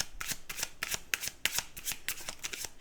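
Playing cards riffled and shuffled at a card table, a quick run of crisp, papery flutters and snaps repeating steadily, close and clear with no talking.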